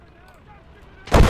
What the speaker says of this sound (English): What's that explosion?